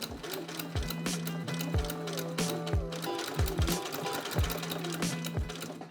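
A sewing machine top stitches a folded-in seam allowance on a fabric piece for a recreated Versace dress, running in close, rapid bursts of mechanical stitching with short pauses between runs.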